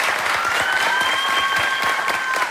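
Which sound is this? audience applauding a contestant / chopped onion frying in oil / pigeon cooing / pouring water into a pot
audience applauding a contestant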